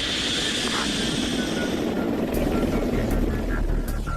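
A chase helicopter flies alongside an A-160 unmanned aircraft on a test flight, its rotor and engine roar a loud, continuous drone that swells slightly partway through.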